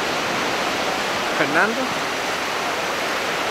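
Cold North Sea surf at Scheveningen beach, The Hague, a constant loud broadband wash of waves close by while a voice briefly calls out a name.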